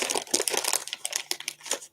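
A plastic packet crinkling in the hands as someone tries to open its top: close, busy bursts of crackling and rustling that come in quick irregular clusters and never settle.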